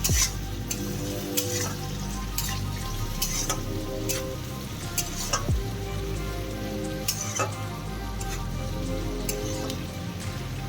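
Chopped onions with tomato and salt fry in a pan, a loud continuous sizzle broken by scattered sharp crackles and the occasional scrape of stirring, with no talk.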